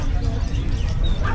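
Small Pomeranian puppies at a pet market give high, yappy yips and whimpers, close and continuous over a dense crowd murmur.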